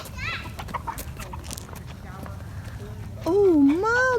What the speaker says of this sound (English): Oh, they're the little chickens.